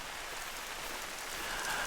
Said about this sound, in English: noisy and raining, but it could rain for a while.